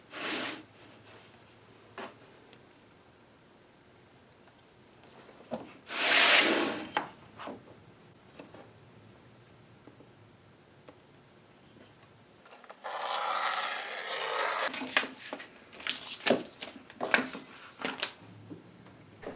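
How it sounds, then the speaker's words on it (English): Flashing pan membrane for a pet door rough opening being trimmed to a five-inch width, with scattered rubbing, scraping cuts and a longer rasping stretch near the end, close and fairly quiet with no talk. "I'll need to trim this panning to a 5 inch width."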